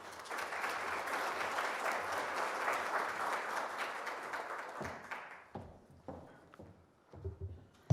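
An audience claps to welcome a lecturer to a talk on children's health inequalities, with steady applause for about five seconds that then thins out into a few scattered claps and shuffling sounds.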